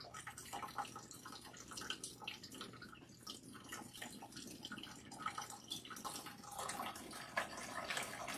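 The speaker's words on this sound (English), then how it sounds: "now we are going to rinse" Water running and splashing while natural hair is rinsed, a soft steady trickle with scattered drips and splashes, faint and close, no voices.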